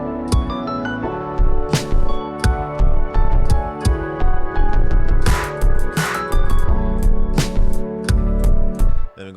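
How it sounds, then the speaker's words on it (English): A deep bass line pulses through a mellow lo-fi beat, with punchy drums and chopped melodic layers in a loose, stuttering groove, close and prominent. "think you're ready to hear that bass."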